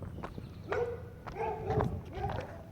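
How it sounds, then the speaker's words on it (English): A dog barks at someone passing through a residential neighborhood, a few short, sharp barks spaced out over a few seconds, moderately close, with faint background noise. "Oh, there's a dog barking at me."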